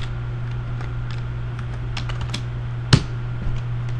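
Code being typed on a computer keyboard while building a print preview dialog: scattered light key clicks with one sharper, louder keystroke near the end, over a steady low hum with no talking.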